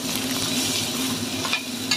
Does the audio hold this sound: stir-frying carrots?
yes